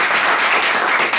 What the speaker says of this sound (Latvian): Paldies ar aplausiem